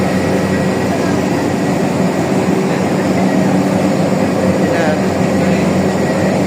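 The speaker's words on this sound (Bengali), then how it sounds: "আর এইটা হচ্ছে মেশিন, এখানে প্রসেসিং" A tea processing machine in a Chittagong tea factory gives off a loud, unbroken mechanical roar and hum. It stays steady and dense throughout, with faint voices in the background.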